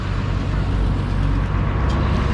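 At the MSRTC bus stand in Mehkar, a steady, loud low rumble of idling and passing buses and road traffic fills the air without a break.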